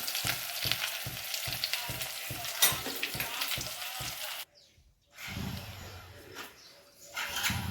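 Hot oil crackles and sizzles steadily as food is tempered, with rhythmic stirring or scraping taps, then a brief near-silence before a softer sizzle resumes.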